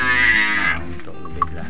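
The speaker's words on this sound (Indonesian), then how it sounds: "Kenapa sapi-sapi Dwi yang ada di sini ini gemuk-gemuk dan super-super?" Fattened cattle on an Indonesian farm give a long, loud, close moo that fades out, followed by quieter low farmyard sounds and a small clink; no one speaks.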